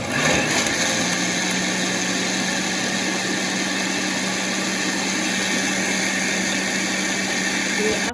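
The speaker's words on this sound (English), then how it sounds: "So after I finish blending, this is the result." An electric blender whirs through onions for onion juice as one loud, steady drone with a constant hum that holds without a break.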